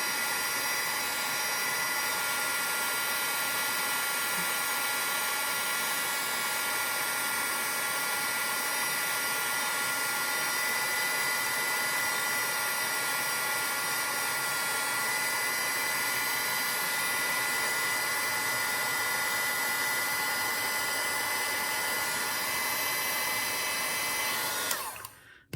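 A heat tool blows a steady, loud whooshing drone while melting embossing powder on a card, holding constant nearly the entire time before cutting off abruptly at the end.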